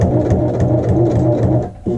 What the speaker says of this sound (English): Now we're going to do an edge stitch from the top to the bottom of our patch.